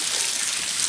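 Heavy rain pours onto a porch, a dense, even wash of close hiss with no breaks.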